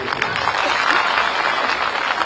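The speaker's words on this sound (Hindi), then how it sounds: "ताली बजा दिए जोर से।" A large audience at a student union leaders' gathering applauds loudly, a dense continuous wash of clapping throughout, close and strong.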